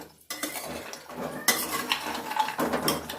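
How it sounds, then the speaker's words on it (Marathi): Seedless dried dates (kharik) being lightly dry-roasted over gas in a pan for diabetic methi ladoo, stirred with a spoon. Close, continuous scraping and clattering against the pan with brief pauses, and no voices. "हे बघा आता ना ते थोडंसं हलकंच भाजून घ्यायचं ते खारीक"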